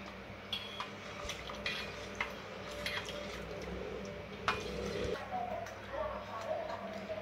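Milk being stirred into carrot kheer in a pot, with soft, irregular clinks and scrapes of a spoon against the vessel over a steady kitchen background.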